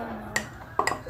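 A spoon clinks against a bowl while stirring cake batter with baking powder, a few light taps in quick succession, close and clear with no talking.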